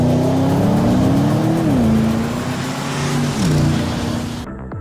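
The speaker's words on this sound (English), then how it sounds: "I think I'll drive another 2 or 3 laps" A 2021 Porsche Panamera's powerful V8 engine roars loudly on a race track, revving up and shifting gears, the pitch rising and dropping before cutting off abruptly.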